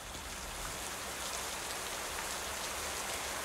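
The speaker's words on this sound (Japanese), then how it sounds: "雨が降ってきた。" Rain pouring in the video game Twisted Wonderland, a dense steady hiss of falling drops at even loudness throughout, with no voices.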